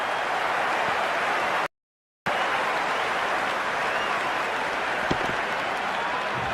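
Crowd applause after a big hit in the Cricket 26 video game, a loud, dense, steady roar of clapping that breaks off for a moment of silence and then resumes.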